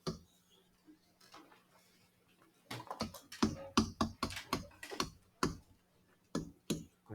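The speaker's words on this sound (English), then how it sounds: "I hear the pencil's getting slammed down, so that must mean we're done with it." Pencils slammed down on classroom desks during an honors geometry class, a series of sharp, scattered wooden clacks and taps coming in quick irregular bursts, close and fairly loud, with no talk over them.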